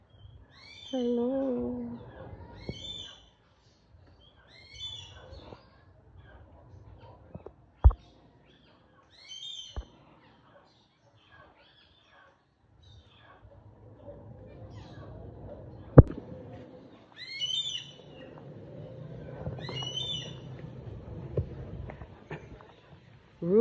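Birds at a zoo give repeated short, high calls at fairly regular intervals over a quiet background, with occasional sharp knocks and people speaking softly nearby.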